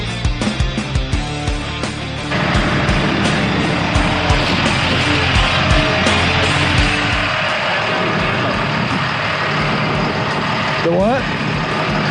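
An LMTV military truck engine runs at a steady idle, a continuous mechanical drone with rattling texture after a few sharp knocks at the start, while a voice speaks briefly.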